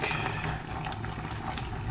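Tiger Mie wheat noodles boil in a pot of water, a dense, steady bubbling and hiss close by, with faint clinks and surface pops scattered through it.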